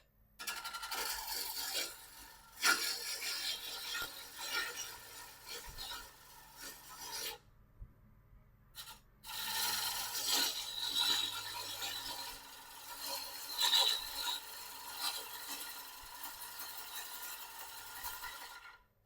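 A bowl gouge cuts a round wooden bowl blank on a spinning lathe, a harsh continuous scraping rasp that rises and falls with each pass, with one short pause midway, close and steady.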